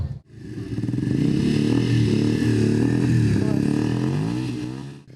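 A group of motorcycles at a bikers' rally in Vinnytsia rumbles past close by, a loud sustained roar of many engines that swells and holds for several seconds before cutting off.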